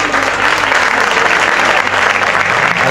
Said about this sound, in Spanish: Yo pediría un aplauso para él.